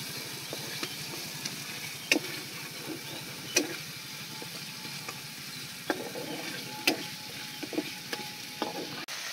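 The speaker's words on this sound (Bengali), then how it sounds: "সেই চারমগজ বাটা প্লেটের জলটা আমি একটু দিয়ে দিচ্ছি মশলার মধ্যে" Water from a plate of ground charmagaj paste is splashed into spices frying in oil, giving a steady sizzle with scattered sharp clinks and scrapes of a spoon against the pan.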